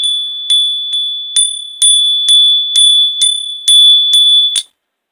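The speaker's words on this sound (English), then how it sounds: "Let me hit the bell." A small ringing bell is struck about ten times in quick, uneven succession, each strike clear and bright with a sustained ringing tone, close and loud with no talking.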